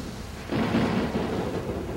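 A thunderstorm sound effect in a stage play reading, where a low rumble of thunder swells after a quiet start and rolls on with a rain-like hiss, fairly faint and without speech.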